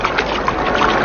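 Splashing water effect for a man sinking beneath ocean waves in a radio drama, a brief close churning and gurgling burst with no voices.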